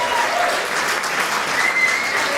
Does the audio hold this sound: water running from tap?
no